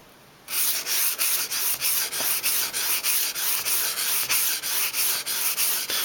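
A kitchen knife honed on sandpaper, steady rhythmic strokes rasping back and forth about three times a second, loud and close after a brief quiet start, with no talking.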